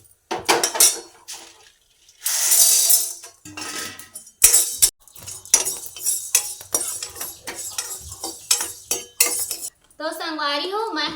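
Tivra (grass pea) roasted and stirred in a hot kadai, irregular metal scraping and clinks of a spoon against the pan, close, with brief pauses and a short voice near the end.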